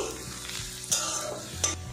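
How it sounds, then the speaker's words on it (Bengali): Chopped onions and dried chilli pieces frying in a pan, a soft steady sizzle with two brief scraping stirs of a utensil, heard up close and fairly quiet. "পেঁয়াজটা আমি লাল লাল করে ভেজে নিয়েছি"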